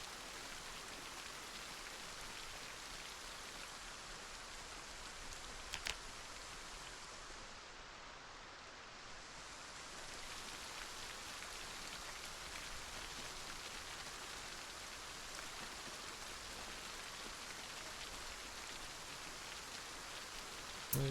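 Steady rain falls in a video game, a constant even hiss of drops that stays uniform and fairly soft throughout with no voices.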